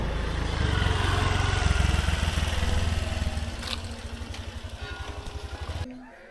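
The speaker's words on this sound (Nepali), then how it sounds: "यहाँ भित्र पनि बाइक आउँदो रहेछ क्या" A motorcycle engine rumbles close by inside the grounds of the Akaladevi temple in a Gurung village, a throaty putter that revs briefly and then settles into a steady idle before cutting off.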